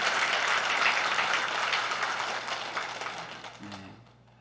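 A church congregation applauds in a dense, sustained burst of clapping that stays full and close for several seconds, then thins and fades toward the end.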